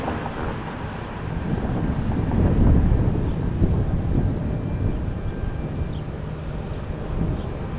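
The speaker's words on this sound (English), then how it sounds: "we've got the turn completed for American Airlines on A321 going back to Charlotte, getting ready to taxi out" A taxiing American Airlines A321 airliner at Milwaukee Mitchell International Airport gives a steady, low jet rumble that swells slightly in the middle, mixed with wind buffeting the microphone, and no one talks.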